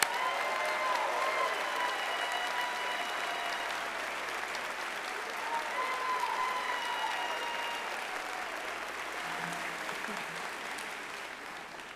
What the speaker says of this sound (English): Will all student athletes who are taking part in this ceremony please stand for one more round of applause from your FAU